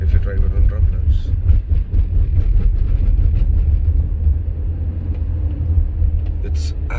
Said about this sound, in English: The noise that you hear is from the tires, and which is ought to happen in any car if you drive it on rumblers.